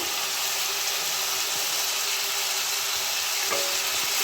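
Chopped onion, a large one, frying in a pan with lightly fried potato, a steady close hiss and sizzle with a brief clink near the end.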